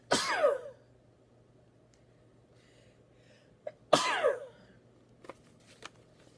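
Two loud, sharp sneezes several seconds apart in a quiet room, each a sudden bright burst, with a few faint clicks afterward.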